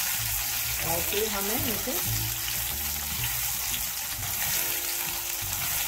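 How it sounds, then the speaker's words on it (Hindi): Food sautéing in a hot pan, a constant sizzle under a voice speaking Hindi, with a few stirring sounds. "ये थोड़ा हो जाए, इस तरह से सौते कर दीजिए"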